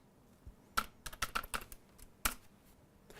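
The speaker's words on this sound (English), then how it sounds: "I just type in services." Typing on a computer keyboard, with a quick series of sharp, close key clicks in two short bursts separated by quiet gaps.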